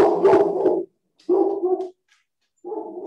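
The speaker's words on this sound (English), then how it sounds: "the dog's barking" A dog barks in three separate bursts of rough, medium-pitched barking with short pauses between them, fairly close and clear with no talk over it.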